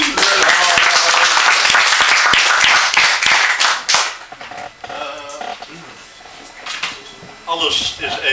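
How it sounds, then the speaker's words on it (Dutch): Audience at a poetry event in Rotterdam applauds with loud, dense clapping that fades after about four seconds, and talk continues over the tail. "Mag ik een applaus voor Lennart Wildeboer?"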